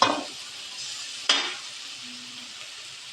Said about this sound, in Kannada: ಓಕೆ, ಇದು ಫ್ರೈ ಆಗ್ತೈತಿ.